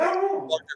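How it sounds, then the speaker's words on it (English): A brief dog bark from a pet in the background of a home podcast interview, sounding close and clear in a single short burst followed by a quick yip. "sorry about my dog"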